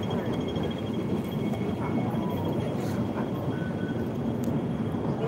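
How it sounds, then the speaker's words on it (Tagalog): A train runs in an enclosed station area near Lohas Park, giving a steady, fairly loud rumble and hiss throughout with a few faint higher tones and no clear talk. "Ito po yung train."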